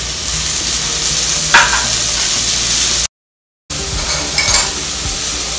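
Asparagus sizzles in hot oil in a frying pan, a loud, steady hiss with brief stirring scrapes, cut by a moment of silence before the frying resumes.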